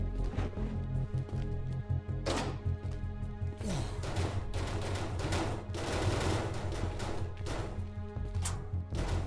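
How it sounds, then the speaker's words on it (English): Video-game gunfire in Cataclysm: Dark Days Ahead, with rapid automatic bursts and scattered single shots cracking out over a low rumbling background, fairly close and dense throughout. "The gunfire's drawn the crowd away while we were here."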